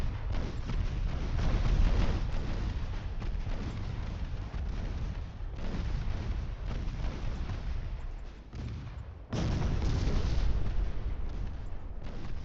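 Naval destroyer guns firing in Ultimate Admiral Dreadnoughts, a dense rumbling barrage of booms and blasts that rolls on continuously at low volume, with a sharp fresh burst late on.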